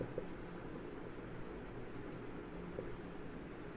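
Country names are written on a board, with faint scratchy strokes at the start and again near the end over a steady low background hiss.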